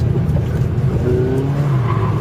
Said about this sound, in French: la piste de la Ferté-Gaucher permet de s'offrir rapidement quelques sensations de drift en inscrivant tôt la voiture en courbe